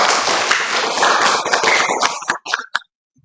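Classroom of elementary school pupils clapping their hands together in a dense, lively burst of applause that breaks up into a few scattered final claps before stopping.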